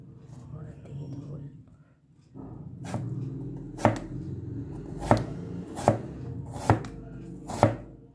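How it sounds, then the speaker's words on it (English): An onion is chopped with a Rocket Steel Germany stainless steel cleaver knife, about six sharp, evenly spaced chops striking the board after a short stretch of quieter slicing, heard faintly with a low background hum. "Now I'm going to show you the cutting of an onion, how fine this Rocket Steel Germany cleaver knife can cut."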